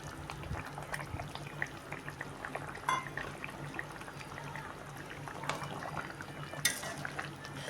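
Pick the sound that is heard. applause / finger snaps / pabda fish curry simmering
pabda fish curry simmering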